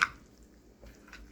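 Rolled oats stirred with water in a bowl give soft, wet squishing and dripping sounds, faint and brief, with a slightly louder stir near the start.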